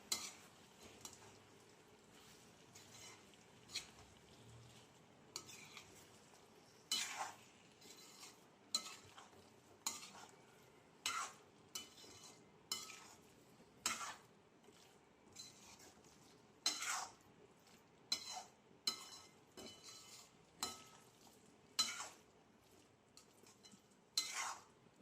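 A spoon stirs veg Manchurian balls in a pan over a low gas flame, giving repeated sharp metallic scrapes and clinks at an uneven rhythm over a quiet background hum.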